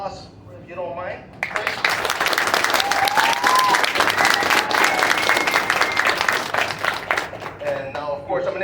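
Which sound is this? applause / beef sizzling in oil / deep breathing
applause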